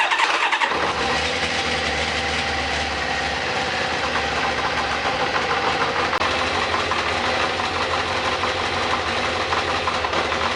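An old Kawasaki ZZR 600 motorcycle on its center stand fires up after a short crank and settles into a steady, loud, close idle with a clattering, rattly mechanical racket throughout, no voices.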